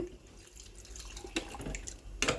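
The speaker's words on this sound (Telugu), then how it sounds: "ఇప్పుడైతే ఒక చిన్న చెమ్ము నిండా వాటర్ అయితే పోసుకుందాం" Water from a small vessel pours and splashes into a pot of mutton curry in uneven gurgling bursts, close by, with a louder splash at the end.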